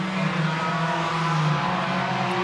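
Race cars in an 8-lap heat race, a continuous loud engine roar and drone with a faint hint of tire squeal, alone with no voices.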